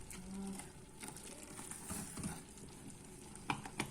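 A boiling mixture in a pot is stirred, with soft scraping, faint bubbling and a gentle sizzle, quiet and close, ending in a couple of louder knocks.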